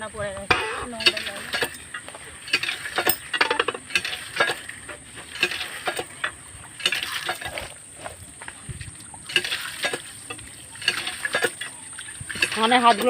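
Taro leaves (kochu shak) being washed by hand in water make intermittent splashes and sloshes at close range, with a person talking between them.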